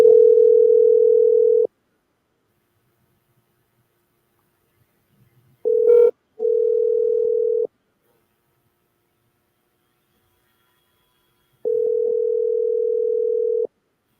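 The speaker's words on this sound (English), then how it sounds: "Let me see if this guy go pick up the phone." A telephone ringback tone sounds while a call waits to be answered on a radio broadcast, steady long buzzes separated by silent gaps, clear and alone with a brief click between.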